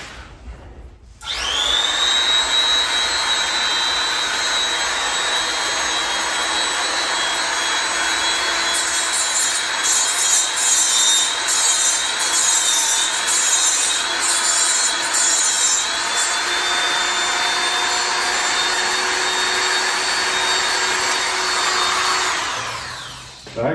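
A tungsten welding electrode is sharpened on a spinning grinder, a sustained high-pitched grinding whine that starts abruptly, holds steady for about twenty seconds with slight pitch wavering midway, then cuts off, loud and close.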